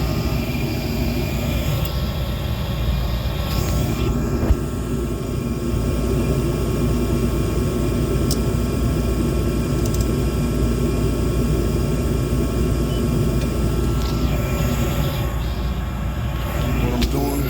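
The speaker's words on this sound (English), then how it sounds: "What I'm doing is checking the amps on my blower motor." A furnace blower motor runs with a steady, loud low-frequency roar and airflow hum, continuous throughout, while a person talks over it at times.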